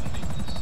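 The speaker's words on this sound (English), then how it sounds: "Wait, get out of the helicopter." Helicopter in Grand Theft Auto V, a loud close rotor drone with rapid rhythmic chopping pulses, alone and very brief.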